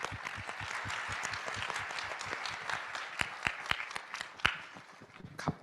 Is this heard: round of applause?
yes